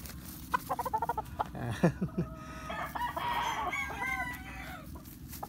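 A Boston Roundhead gamecock rooster crows up close after a quick run of clucks, its long drawn-out call rising and trailing off, with no talking over it.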